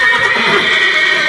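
A horse neighs loudly and close by in a stable, a single sustained whinny with a bright, tonal quaver that fills the short moment, with no voices.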